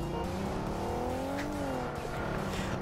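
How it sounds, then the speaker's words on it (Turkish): Cars race and rev in the battle royale game PUBG Mobile, engines droning with rising and falling pitch as they close in and pull apart, steady and fairly loud with no voices. "Şurada iki araba birbiriyle kapışıyor gibi abi."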